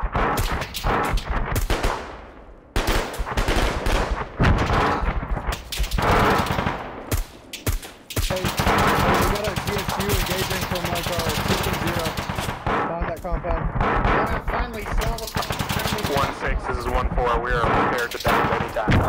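Sustained machine-gun and heavy artillery fire in a realistic warfare video game, loud rapid bursts and booming impacts nearly continuous throughout, with brief gaps, while players talk over the radio beneath the gunfire.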